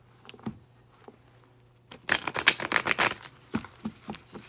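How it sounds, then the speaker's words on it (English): Tarot cards are shuffled by hand in a quiet room, giving a close, crisp burst of rapid flutters after a few soft taps and lasting about a second and a half, with no talking. "Let's go ahead and shuffle for single Sagittariuses."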